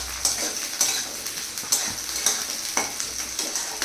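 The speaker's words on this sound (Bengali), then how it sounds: "এই পেঁয়াজের সাথে আলুটাকে ভাজা ভাজা করো" Sliced potatoes and onions frying in a pan with no whole spices, a soft steady sizzle punctuated by regular scraping strokes of a spatula stirring the pan, close and fairly quiet.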